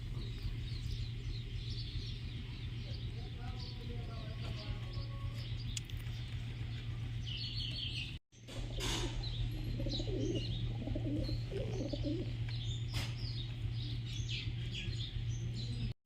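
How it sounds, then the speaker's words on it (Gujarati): Pigeons coo softly amid scattered bird chirps over a steady low hum, with a brief dropout midway; the cooing stays faint and somewhat distant. "કબૂતર જો પાણી પીએ તગારામાં"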